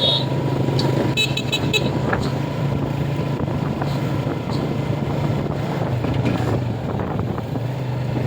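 Road traffic on a busy roadside near Amandayehan port, with vehicles lined up on both sides; a steady, loud rumble of engines and wind runs throughout, with short horn toots near the start.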